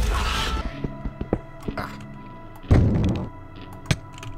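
Stone being punched in Minecraft gives a series of short, dull thunks and thuds of varying strength, with one heavier, louder impact partway through over a busy game background.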